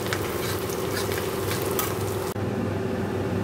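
Red amaranth leaves fry in hot oil with onion, garlic and chili in a wok, giving a steady close sizzle with stirring scrapes that cut off abruptly near the end.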